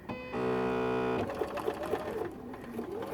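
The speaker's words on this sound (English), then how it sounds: "I got my 1/4 inch foot on my machine now, and I'm going to put them together, right sides together, and I'm going to stitch" A sewing machine with a quarter-inch foot stitches seams through quilt pieces, a steady close mechanical whir for about a second before a busier rattling run, with no talk.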